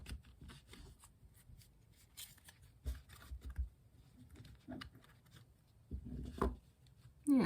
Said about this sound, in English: let's continue by doing some shuffling, and we'll pull 4 tarot cards for the day as always.